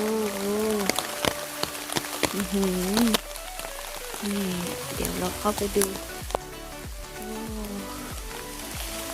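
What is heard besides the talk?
heavy rain pouring on heath flower field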